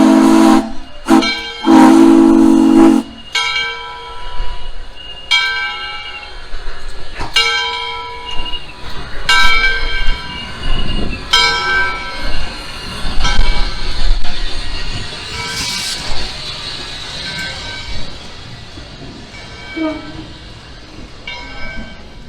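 A Tennessee Valley Railroad steam train sounds loud whistle blasts at the start, followed by a bell ringing in regular strokes, hissing steam and rumbling rail noise nearby.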